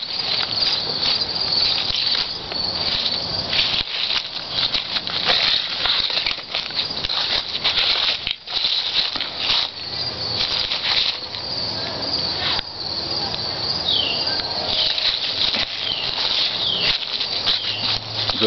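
Honeybees swarm around a backyard apiary full of hives, a dense, steady buzzing drone that stays loud and close throughout, with wings whirring past and no talk.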